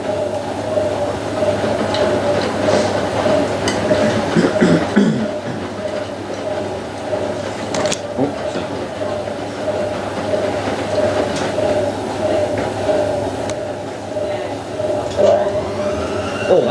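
Miele W562 washing machine motor running through a spin cycle on a cotton load: a steady, loud whirring rumble with a constant whine that carries on throughout without pause.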